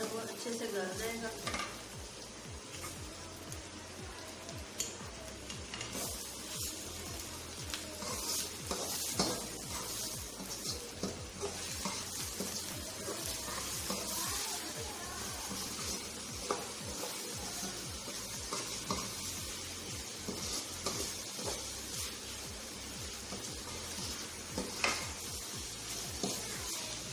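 Onions and tomatoes frying together in a pan, with a constant low sizzle under repeated spoon scrapes and clinks against the pan, stirring steadily throughout with no voices.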